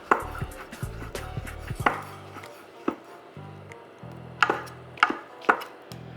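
Rinsed mushrooms are chopped on a board for pasta, cut into big pieces with sharp irregular knife knocks, several in quick bursts and others spaced apart, close and fairly loud with low hum between.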